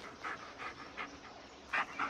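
A dog pants in short, quick breathy bursts, close and fairly quiet, in the video game Blair Witch.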